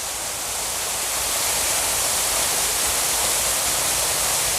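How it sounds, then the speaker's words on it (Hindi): Water falls from a height at a park waterfall in Changa Manga forest, making a loud, continuous, hissing roar that fills the whole clip. "बहुत बुलंदी से ये पानी गिर रहा है"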